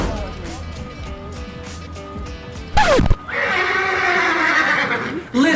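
Horses at a ranch let out loud, drawn-out whinnies close by, one sharp cry rising and falling before a long shaky neigh, with voices talking underneath.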